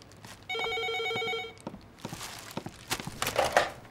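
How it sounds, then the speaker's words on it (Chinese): A telephone bell rings loudly indoors in one sustained electronic trill, followed by rustling, handling and footstep-like knocks as someone moves to answer. "哎，电话来了。"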